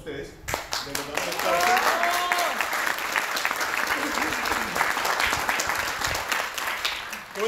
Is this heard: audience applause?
yes